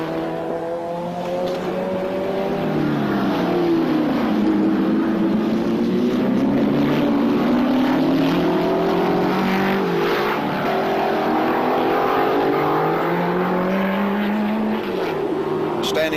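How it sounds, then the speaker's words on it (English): Historic racing cars, a 3-litre desmodromic straight-8 Mercedes-Benz and a Repco Brabham, heard as a loud, sustained engine roar with rising and falling pitch as they rev and pass, with a commentator talking over it. "you can listen to this sound, this marvellous Desmodromic straight 8 Mercedes-Benz, 3 litres of fascinating car"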